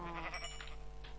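A sheep in the game Minecraft gives a short, faint bleat over a steady low background hum.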